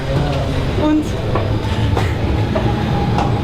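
A passenger train carrying travelers back from Amsterdam rumbles steadily with continuous wheel and carriage noise, loud and close, with faint murmurs of people talking in the background.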